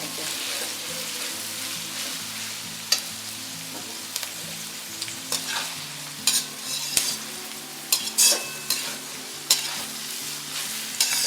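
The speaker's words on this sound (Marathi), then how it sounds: "आता आपण बघू शकता आपला कांदा आता फ्राय होत आलाय" Onions frying in oil in a pan, a constant crackling sizzle with intermittent louder scrapes and knocks as they are stirred, close and clear with no talking.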